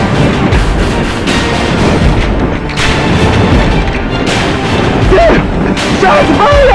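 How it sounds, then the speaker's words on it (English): Gunshots ring out during a police encounter: several sharp, loud cracks and booms spaced across the stretch, with raised voices shouting between and after the shots. "Shots fired!"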